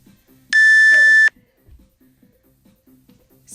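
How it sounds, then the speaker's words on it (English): A single loud electronic beep of just under a second sounds from a workout interval timer, with only soft room noise before and after. "As soon as you hear that timer, you're on."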